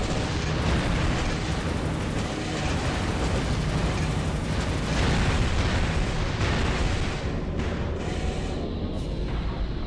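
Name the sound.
dual heavy shotguns firing in Armored Core 3 video game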